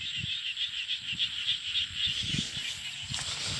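Small khiat frogs calling from a wet spot, a steady high-pitched trilling chorus pulsing in repeated bursts, with low knocking and rustling noises close by underneath.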